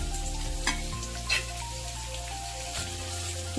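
Finely chopped onion frying in a pan for pithla makes a soft, steady sizzle, with a few clinks of a spoon against the pan and a low hum running underneath.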